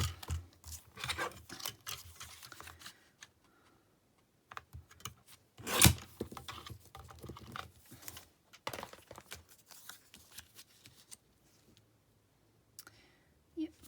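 Sheets of patterned designer series paper being cut down, with intermittent crisp snips and paper rustles interleaved with soft handling noises and some talk.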